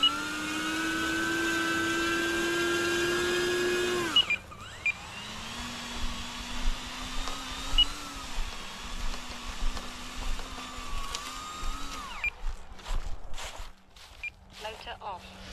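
A model plane's electric motor spins its propeller in a steady loud whine for about four seconds, then cuts off abruptly, leaving quieter rustling and faint motor whirs under talk.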